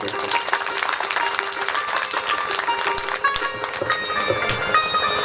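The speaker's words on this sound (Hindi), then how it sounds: "अगर पसंद हो तो ताली बजा दो।" An audience claps steadily at a Shrimad Bhagwat Katha religious discourse. The dense applause runs loud and unbroken for the whole stretch, with bell-like ringing and voices mixed in.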